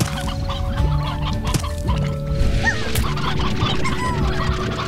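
Stony hens in the Slime Rancher game cluck and squawk in a busy flock, overlapping calls close by against a constant background hum.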